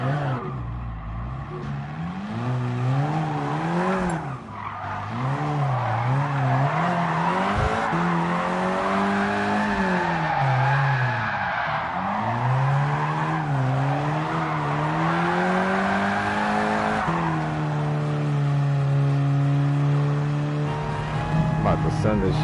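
A race car in the video game GT Sport revs hard with its engine pitch sweeping up and down, while tires squeal and skid; the sound is loud, close and continuous for over twenty seconds.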